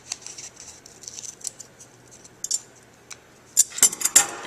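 Scissors snip and trim thermoplastic splinting material for a digit tip protector, with a few light cuts early on and a cluster of sharper, louder snips near the end, heard alone.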